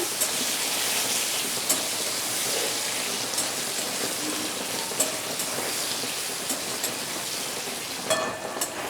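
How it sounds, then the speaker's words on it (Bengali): Small-cut potatoes frying in a pan with a bay leaf, a continuous even sizzle like steady rain with occasional faint pops and crackles, no voices. "আলুটা হালকা লাল করে একটু ভেজে নেব।"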